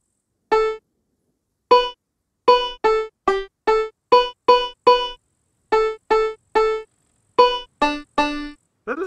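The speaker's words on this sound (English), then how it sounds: "Red binding his keys, trying to play with Mary Had a Little Lamb" A banjo in the video game SCUM plucks out Mary Had a Little Lamb as a sequence of separate, clear, evenly bright notes with short gaps, played alone and somewhat unevenly.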